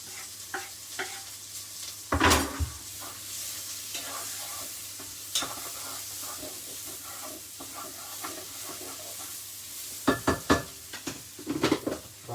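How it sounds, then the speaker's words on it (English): Chili, ginger, garlic and spring onions sizzle quietly in a pan for a slow-cooked beef stew, with a few sharp stirring scrapes and clanks of a utensil against the pan over a soft frying hiss. "Okay, now we're going to go in with our chili, ginger,"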